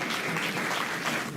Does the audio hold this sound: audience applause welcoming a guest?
yes